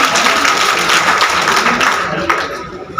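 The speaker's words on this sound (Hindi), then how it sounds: "अब आपके लिए ताली बजाओ खुद के लिए।" Applause from party workers at a Congress meeting in a garden hall, a dense burst of clapping that fills the room and gradually thins out, with voices underneath.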